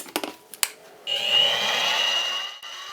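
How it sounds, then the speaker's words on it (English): A drill with a 25/64 bit bores into a bog oak pen blank, a steady whirring drone starting after a few knocks and clicks, then cutting off abruptly. "now let's go ahead and drill this hole."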